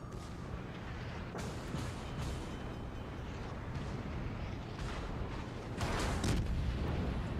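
Secondary guns on a Baltimore cruiser fire during a World of Warships naval battle, a dense continuous barrage of booms and blasts with several sharper louder bursts toward the end.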